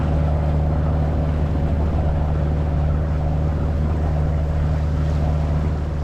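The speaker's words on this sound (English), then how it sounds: "now we're sailing again, getting between 5 and 6 knots" Sailboat under sail at five to six knots near Martinique, a loud steady rumble of wind and rushing water against the hull with a constant low drone throughout.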